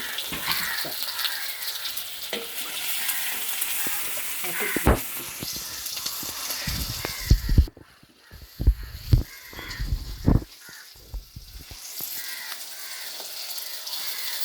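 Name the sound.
onions and green chilies frying in a pan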